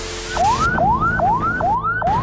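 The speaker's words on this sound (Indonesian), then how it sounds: "Berlalu lalang di kota Yogyakarta, seperti inilah rutinitas dari ambulans sederhana ini." A small community ambulance siren passing through city streets in Yogyakarta, Indonesia, wails in loud repeated rising sweeps, about five cycles in quick succession, close and dominant over faint traffic.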